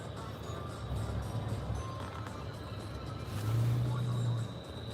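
A brand-new stick shift car idles and revs at a Christmas lights drive-thru, its low engine drone swelling louder for about a second near the end, with faint background voices.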